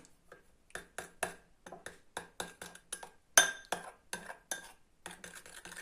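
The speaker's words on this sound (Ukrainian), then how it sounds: "Ну, добре, перемішаю ось це." A utensil stirs gluten-free bread ingredients in a bowl, making a steady series of close clinks and scrapes against the bowl at a brisk, uneven rhythm.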